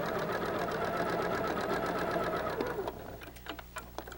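A sewing machine stitches pieces of a dimensional diamonds quilt, a steady close mechanical whir with rapid needle rhythm that slows and stops near the end, followed by a few faint clicks.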